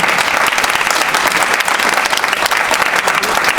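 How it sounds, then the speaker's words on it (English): An audience applauds panelists at a panel event, a dense, steady wash of many hands clapping at full volume with no talk over it. "give a big round of applause to all our panelists for today"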